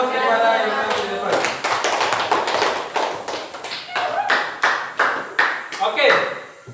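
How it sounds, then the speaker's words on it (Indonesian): A classroom audience claps for presenters at the front, a dense burst of many hands that thins into scattered separate claps toward the end, with faint voices underneath. "Silakan berikan aplaus kepada yang ada di depan."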